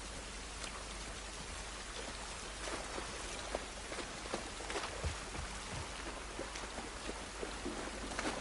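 Rain falls steadily outside in a video game, a faint, dense patter of drops spattering on surfaces with occasional louder splashes, continuous and with no talking.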